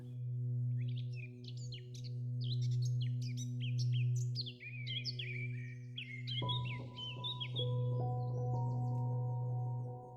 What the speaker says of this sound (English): Birds sing softly in the distance,